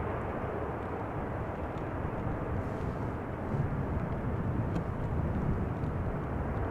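An airliner landing at Amsterdam Schiphol Airport runs its thrust reversers, a steady, distant, broad jet roar that swells slightly partway through, with no voices.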